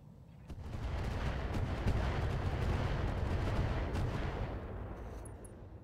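Mech weapons fire in the RogueTech game, a long rumbling barrage of heavy shots and impacts that swells after a brief start, stays loud for several seconds and then fades.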